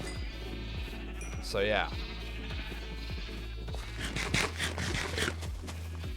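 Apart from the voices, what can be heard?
sheep bleating in a video game (Minecraft)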